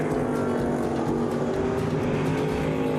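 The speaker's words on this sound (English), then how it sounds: "Engines roar, dirt flies" Race car engines roar loudly and continuously at a dirt oval speedway, Route 66 Motor Speedway in Amarillo, Texas, a dense layered snarl of several motors close by with no voices.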